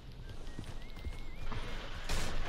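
Horse hooves clip-clopping with a whinny inside Red Dead Redemption 2, a steady rhythm of close, moderately loud hoofbeats and a brief neigh near the end.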